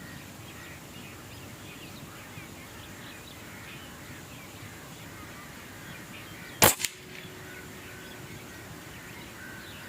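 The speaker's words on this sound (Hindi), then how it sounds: "जी एक शॉट और लेते हैं जी, नेक्स्ट शॉट" A PCP air rifle, the M22, fires a single shot at a zeroing target: one sharp, loud crack stands out with a short echo, set against steady outdoor background noise.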